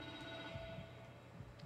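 A telephone rings in The Evil Within 2, a steady electronic trill with sustained tones that stays even and moderately loud throughout and has no voices over it.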